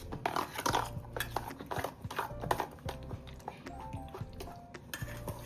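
Semolina and curd batter for appe stirred with a spoon in a bowl, giving steady scraping and light clinks of metal against the dish. Muffled household noise sits in the background.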